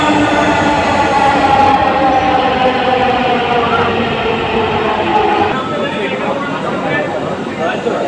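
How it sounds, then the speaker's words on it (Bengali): Metro train pulling into Farmgate metro station in Bangladesh, a loud continuous rumbling roar and hum that gradually eases as it slows, with a crowd of waiting passengers murmuring and a voice talking over it. "এই যে ট্রেন আসছে।"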